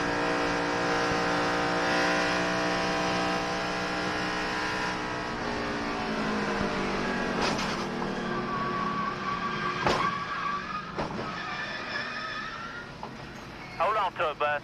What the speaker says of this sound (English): Let's ride with Kenny Schrader. This won't be any fun.